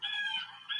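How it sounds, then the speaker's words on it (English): A rooster crow sound effect played on a livestream, one short, loud, clear cock-a-doodle-doo heard alone, with no voices. "You hear the sound of that random bird, and you know that it's somebody's first time here"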